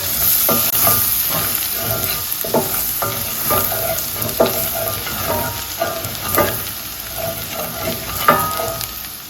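Chopped garlic sizzles in two tablespoons of butter in a pan used for shrimp scampi, a loud constant hiss close by, punctuated by repeated scraping strokes of a utensil as it's stirred.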